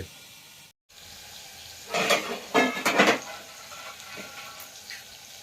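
Lobia masala curry, black-eyed peas in spiced gravy, frying in a pan on the stove: a few loud sizzling bursts in the middle with quieter bubbling before and after, close by and without talk.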